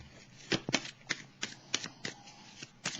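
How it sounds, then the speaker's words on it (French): Tarot cards being shuffled and drawn by hand, a series of crisp, close riffling snaps and flicks in an uneven rhythm, with no voices. "Je vais piger une carte ici sur la tentation."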